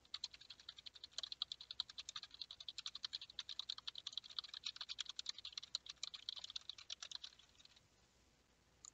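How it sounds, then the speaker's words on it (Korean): Rapid, continuous clicking of a computer keyboard and mouse buttons picked up through a HyperX Cloud II Pink gaming headset microphone with USB noise cancelling, dense and fairly close for about eight seconds before stopping. "키보드와 마우스 버튼을 눌러보겠습니다."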